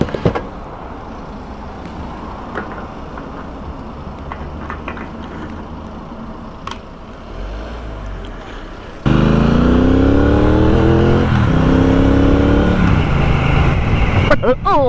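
A 2021 Triumph Bobber motorcycle accelerates through the gears. A quieter, rumbling stretch gives way to a sudden loud, close engine roar whose pitch sweeps upward repeatedly with each gear.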